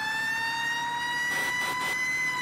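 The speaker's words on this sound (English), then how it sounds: "We got our sirens running, and we'll be cruising over there." A fire truck siren in the Farming Simulator 17 video game wails steadily and loudly on its own, with a sustained tone and no talk over it.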